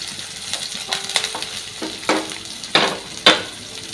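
Chopped onion and green chillies frying in a pan with ginger and garlic for a Kerala chicken curry, a soft sizzle under irregular scrapes and metallic clinks of a spoon, the last few knocks louder; no voices.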